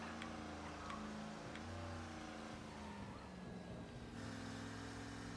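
A turbocharged Rolls Royce car engine drones steadily while driving in Mafia Definitive Edition, a continuous low hum with shifting pitch and faint music underneath, fairly quiet throughout.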